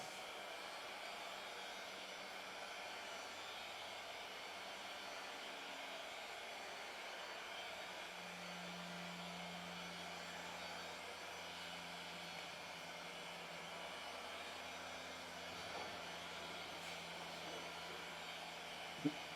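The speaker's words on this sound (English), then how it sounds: "I'm going to use the heat gun. I'm going to warm up both sides." A heat gun warming rubber blows with a faint, steady airy hiss and low hum that runs unbroken throughout, with a slight shift in its tone about halfway through.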